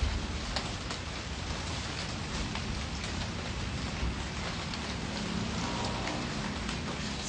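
Steady rain falls continuously in a dense, even wash of drops on surfaces, filling the scene without pause or break and with no voices heard.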